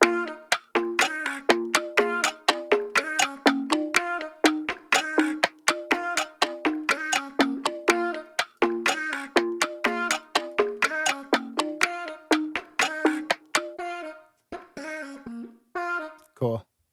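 Bright synth plucks in a pop beat built in Ableton 11, playing a quick rhythmic melodic pattern with steady repeated notes and chords, loud and close with no talking, thinning out into sparser notes near the end.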